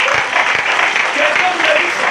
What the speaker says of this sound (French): Acclamons pour la gloire du Dieu.